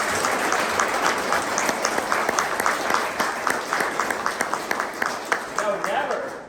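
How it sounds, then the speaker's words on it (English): An audience claps steadily throughout, a dense patter of applause with some sharper individual claps standing out, heard at moderate distance. "Oh, sorry, I interrupted his applause."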